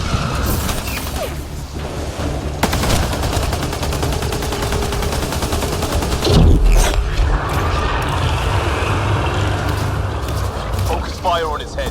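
Gunfire in the Mass Effect: Andromeda video game during a fight against an Architect on Kadara, with dense rapid weapon bursts and impacts layered over game effects, steady and loud for about twelve seconds, with voices talking throughout.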